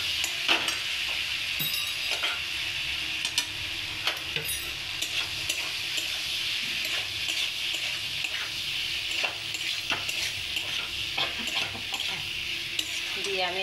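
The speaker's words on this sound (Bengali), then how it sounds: "আলুটা দিয়ে আমি একটু ভালো করে কষিয়ে নেব।" Boiled potatoes are stir-fried in a pan for a vegetarian papad and potato curry, with a steady close sizzle and frequent spatula scrapes and taps against the metal.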